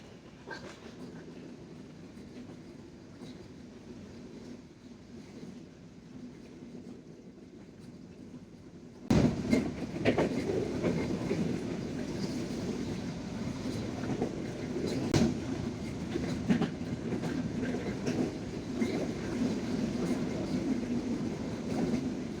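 Padma Express train running on the rails, a steady rumble with rhythmic wheel clatter that jumps sharply louder partway through and stays loud and close.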